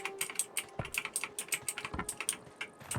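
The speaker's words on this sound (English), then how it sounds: "I really wish that I did not have such a loud keyboard." A loud computer keyboard is tapped rapidly and repeatedly on a single key, sharp clacking strokes in an uneven, hurried rhythm, close and clear with no talk.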